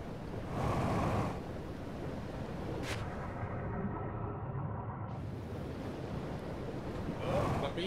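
Rough, white river water rushing in the game Outer Wilds, a steady broadband wash with surges near the start and end, while people talk over it.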